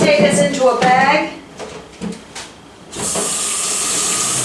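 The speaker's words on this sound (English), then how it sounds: "Make sure you wash everything off." Tap water runs over potatoes in a bag at a kitchen sink, a steady close hiss and splash that follows a voice speaking and a few clunks of handling.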